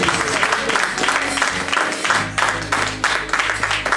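A church congregation applauding and acclaiming Jesus, dense and steady clapping mixed with crowd noise and shouts, continuous and fairly loud throughout.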